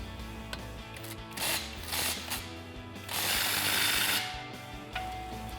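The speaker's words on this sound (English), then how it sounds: "we can now tighten down the clamp bolt with a 15mm socket" A ratchet driving a 15mm socket tightens the exhaust clamp bolt on a Magnaflow Crawler Series cat-back exhaust for a 2021-2026 Ford Bronco, with bursts of close, loud clicking and a longer steady run of ratcheting.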